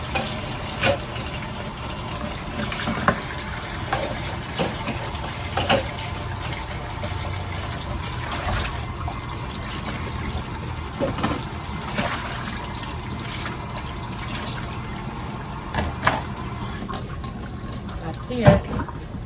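Tap water runs steadily into a sink while a pan is washed, a continuous hiss broken by scattered knocks and scrapes of cookware, with a person talking over it.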